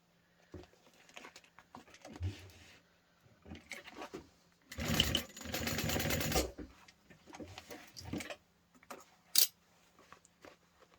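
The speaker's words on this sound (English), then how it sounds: "what we're going to be doing is sewing this down onto this" A sewing machine stitches a backpack in one sustained burst of fast rhythmic whirring, surrounded by scattered handling clicks and taps, fairly quiet overall.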